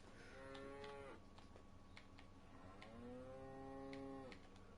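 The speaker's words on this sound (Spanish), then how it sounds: "La vaca me está poniendo nervioso." Two long, low cow moos from the video game Martha Is Dead, each drawn out and separated by a short pause, over a quiet ambient background.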